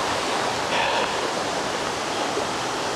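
A waterfall with a modest flow sends down a steady, dense rushing wash of water, constant and fairly loud with no other sounds standing out.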